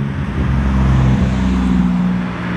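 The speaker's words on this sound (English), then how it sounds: "another car is passing by and I want to make sure that I'm not competing with the traffic noises" A car passes on a road behind someone standing outdoors, a close, loud engine rumble and tire roar that swells and then eases off over a couple of seconds.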